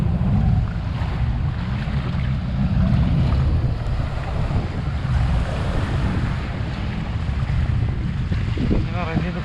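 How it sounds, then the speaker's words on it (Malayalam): Scooter-type jet skis drone on the water at Khorfakan beach, a continuous engine roar mixed with surf and strong wind noise, loud and close. "സ്കൂട്ടർ ടൈപ്പുള്ള ബോട്ടുകളാണിത്."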